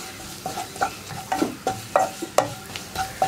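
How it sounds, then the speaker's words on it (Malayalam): Garam masala and spice powders being stirred in a frying pan during a cabbage egg stir fry, a close, quick rhythm of spatula scrapes and taps over a soft sizzle. "പൊടികളുടെ ആ ഒരു റോ ടേസ്റ്റ് മാറി വരുന്നത് വരെ ഇളക്കി കൊടുക്കുക"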